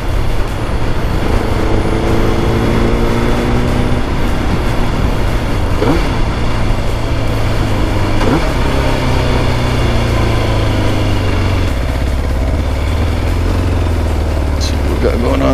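Kawasaki ZX9R motorcycle engine droning steadily under way, loud and continuous with wind rush, the pitch shifting as the rider works the throttle, while someone talks over it.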